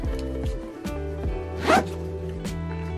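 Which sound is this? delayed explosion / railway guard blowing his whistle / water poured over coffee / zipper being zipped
zipper being zipped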